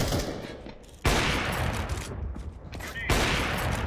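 Bursts of rapid gunfire in Counter-Strike 2 crackle in quick volleys, loud and dense, with a brief lull between bursts.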